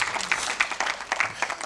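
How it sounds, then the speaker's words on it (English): Audience in a church service applauding, a brief spell of scattered clapping from a crowd heard at moderate distance. "Let's give her a round of applause for coming up."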